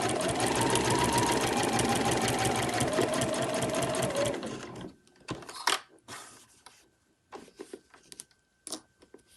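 A sewing machine stitches fabric for a machine cover in a loud, continuous whirring run for nearly five seconds. It then stops abruptly, leaving sparse clicks and handling sounds without any speech.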